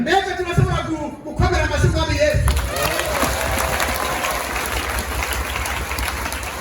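A church congregation breaks into loud, sustained applause to acclaim the Lord, the clapping swelling in after a voice and continuing as a dense, steady roar of hands and crowd noise.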